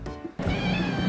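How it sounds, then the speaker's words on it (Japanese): A rescue cat in a private room at a cat café in Umeda lets out one loud, close meow that lasts about a second, with a steady background hum. "このにゃー言うてる子いてるけれども、誰が泣いた？"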